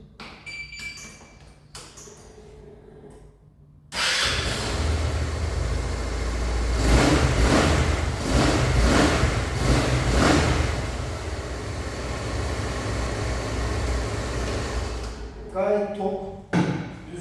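An RKS Freccia 150 maxi scooter's engine starts up after a quiet stretch and runs steadily, with a few rev swells partway through, fairly close and loud, ending abruptly with brief sounds afterward.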